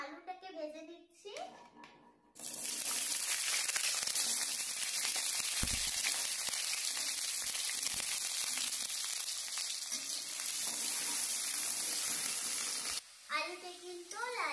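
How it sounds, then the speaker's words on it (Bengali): Potato pieces fry in hot mustard oil, a loud, dense, continuous sizzle close by that holds steady for most of the stretch, with a voice speaking briefly before and after it. "এখন আমি প্রথমে আলুটাকে ভেজে নিচ্ছি।"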